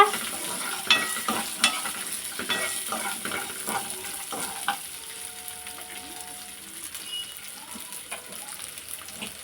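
Onion and garlic sautéing in a pan for a tomato-free chutney, with a soft, steady sizzle under irregular stirring clatters and scrapes that are sharper early on and ease off later.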